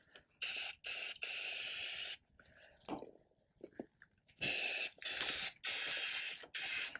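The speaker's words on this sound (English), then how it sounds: "I am going to spray it again and dip it again." Several sharp hissing bursts of a spray paint can sprayed for hydro dipping Nike Free shoes, each a second or so long, separated by quiet gaps with faint handling noises.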